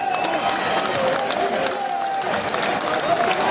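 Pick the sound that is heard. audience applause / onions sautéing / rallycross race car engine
audience applause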